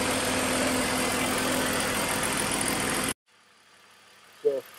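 BMW Z4 3.0 engine idling after a coil pack swap, a steady, even idle filling the first three seconds before cutting off abruptly, followed by near silence and a short low thump.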